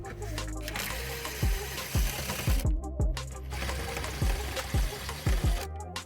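A power driver backs screws out of the dashboard of a Ford Expedition, F150 or Navigator during heater core and blend door replacement, giving a close, whirring motor with repeated short clicking pulses in quick runs.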